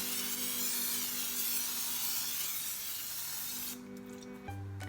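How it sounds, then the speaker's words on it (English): Canola oil sprayed into an air fryer sends out a steady, close hiss for about four seconds, then cuts off, leaving a faint low hum. "I'm spraying the air fryer with canola oil."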